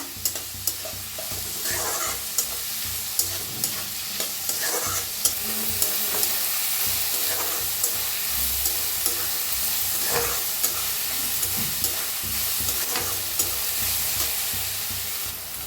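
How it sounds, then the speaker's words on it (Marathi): Finely cut spring onion and green chillies stir-fried in a pan for egg fried rice, a loud continuous sizzle close by with regular scraping and tapping of the spatula throughout, no speech. "कांद्याची पात बारीक अशी कापून घेतलेली हिरवी मिरची भाजून घेऊया कांद्याला कांद्याच्या पातीला"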